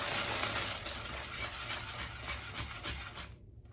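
Peanut butter fudge mixture with peanut butter chocolate chips stirred with a whisk in a pot, giving a steady scraping, rubbing swish that continues evenly before stopping near the end, close and alone.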